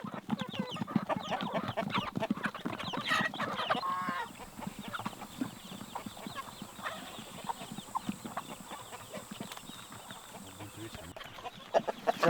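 Chickens clucking and crowing inside a coop, a rooster among them, with busy overlapping calls loudest in the first few seconds and softer scattered clucks afterward, with faint voices in the background.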